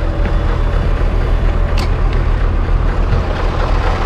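A lowloader truck rolls slowly toward flat ground, its heavy diesel engine giving a loud, steady low rumble throughout with faint mechanical clatter on top, heard close from the cab with no talking.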